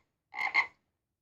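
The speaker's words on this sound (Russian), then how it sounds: "лягушка," A single frog gives a short two-part croak, close and clear against silence.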